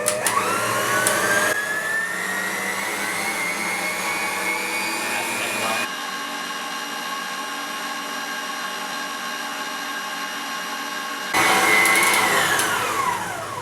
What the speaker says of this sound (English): The first thing I've got in my mixer with the whisk on is butter and sugar. I'm just going to pop that on to whisk up.